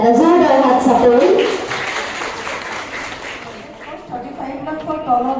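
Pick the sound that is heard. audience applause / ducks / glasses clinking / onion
audience applause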